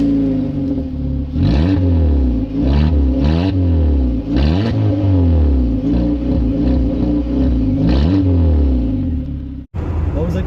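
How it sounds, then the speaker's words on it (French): A Peugeot 206 CC with an exhaust holed in two places roars loudly as it revs hard through repeated rising and falling surges, with a short break near the end. "La ligne d'échappement qui était trouée à 2 endroits, du coup ça faisait un bruit de Formule 1."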